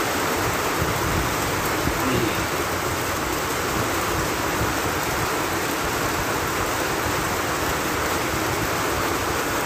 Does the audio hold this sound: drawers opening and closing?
no